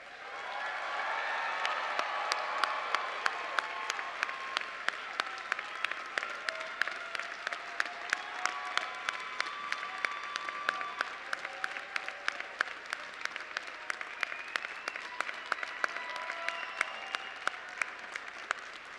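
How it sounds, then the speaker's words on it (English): Sustained applause from a large commencement crowd honoring graduates at a university fall ceremony, steady dense clapping with sharp individual claps standing out, continuing without letup. "let's give our graduates one final round of applause."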